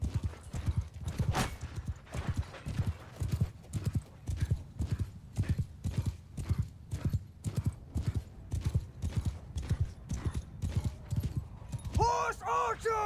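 Galloping horse hooves of mounted archers in Mount & Blade II: Bannerlord, a fast rhythmic clip-clop pounding steadily, a voice calling out, and a horse whinny near the end.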